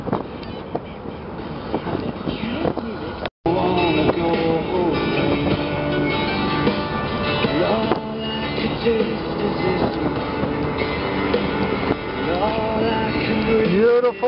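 A 1962 Ford Thunderbird convertible cruises at about 60 mph with the throttle eased off, a steady engine and road drone mixed with heavy wind rush, close and continuous after a brief cut.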